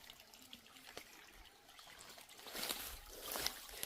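Water flowing through a plot of land in Wayanad, a faint, steady trickle and babble that swells a little toward the end, heard alone with no voices.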